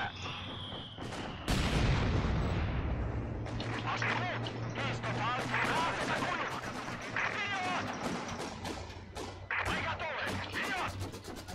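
Bofors anti-aircraft gun firing in Company of Heroes 2 during a 4v4 match, loud repeated sharp blasts and cracks over a dense battle din, with excited voices talking throughout.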